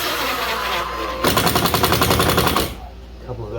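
Impact driver sinking a screw into a drywall ceiling, a loud rapid hammering burst of about a second and a half, preceded and followed by duller handling noise nearby.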